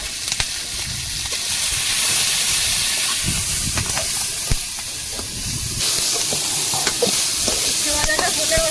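Fish frying in hot oil gives a loud, steady sizzle and hiss with a few sharp crackles and clicks from the pan, close up and alone.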